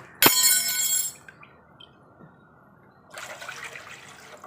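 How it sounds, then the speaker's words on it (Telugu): Water is poured from a cup into a cooking pot for steamed rice dumplings, a close splashing gush lasting about a second. A second, softer pour follows a few seconds later. "నాలుగు కప్పులు వాటర్ వేసుకోవాలండి."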